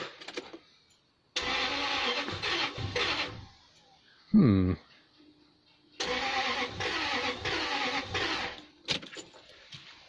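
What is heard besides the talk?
Lexus LS400 car engine being started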